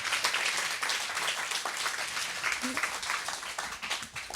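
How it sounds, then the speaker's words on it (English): An audience claps for the panelists at a live food and culture panel. The applause is dense and steady, with a voice speaking over it. "if we can give a round of applause to our panelists"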